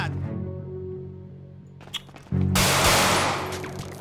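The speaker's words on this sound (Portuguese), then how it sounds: "vou dar um tiro nesse filho da mãe" Gunfire in the video game GTA 5 roleplay, quiet game sounds giving way to a sudden loud burst of rapid shots that continues for over a second, close and harsh.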